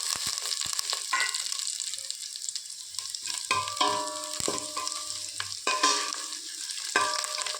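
Curry leaves sizzle and crackle in hot oil while being stirred, with sharp spattering pops and the clink of a spoon against the pan over a steady frying hiss.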